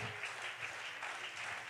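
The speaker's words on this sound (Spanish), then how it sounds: "Denle un aplauso al Señor Jesucristo esta mañana" A church congregation claps together during a Spanish-language sermon, a steady dense applause filling the room at moderate loudness.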